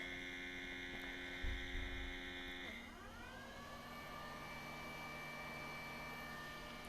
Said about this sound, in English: It's just draining the water, but it's still not that loud.